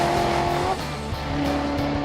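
A fast race car at NOLA Motorsports Park in Louisiana, running near top speed around 160 to 170 mph, gives a loud, sustained engine drone that shifts pitch partway through, with no talk over it.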